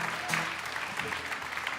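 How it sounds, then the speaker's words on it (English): An audience at a live music session applauds the sound engineer, a short burst of dense clapping at moderate level, with faint background murmur underneath. "Can we have a round of applause for Matt Bishop on sound"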